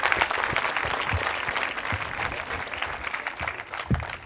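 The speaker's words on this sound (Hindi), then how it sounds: "तालियां जोरों से बजती रहनी चाहिए, जोरों से बजाइए आप" Steady applause from a college quiz-show audience at a women's engineering college, sustained dense clapping at moderate loudness with a few sharper claps standing out, no voices over it.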